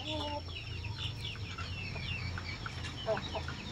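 Free-range chickens kept in a small, confined pen cluck and chatter steadily at close range, with scattered bird calls layered over a continuous low background hum.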